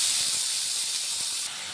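Chopped onion hits hot mustard oil for a crab curry, giving a steady, bright sizzling hiss that holds close and loud for a brief moment before easing slightly.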